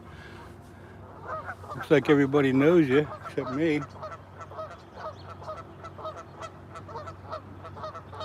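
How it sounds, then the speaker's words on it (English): Geese honk in a loud, wavering burst of nasal calls for about two seconds, then fade to scattered distant honks while someone talks nearby outdoors during a flathead fishing outing. "the geese are yelling now"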